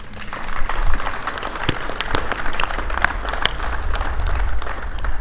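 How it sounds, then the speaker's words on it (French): A crowd at a ceremonial flag handover for Senegal's national football team applauds coach Aliou loudly, a sustained wash of many clapping hands with individual sharp claps popping through. "Cher coach Aliou, je voudrais qu'on t'applaudisse très fort."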